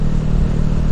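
Honda Revo FI motorcycle fitted with an R9 racing exhaust, idling or held at low throttle, a close, steady, low and mellow engine hum with no voices.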